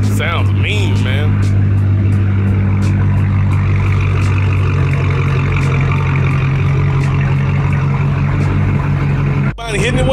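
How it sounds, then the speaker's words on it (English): Car engine fitted with headers, an X pipe and a rear cutback with no muffler, rumbling loudly and steadily close by while people talk over it. "It's got red tech headers, X pipe, rear cut back. There's no muffler."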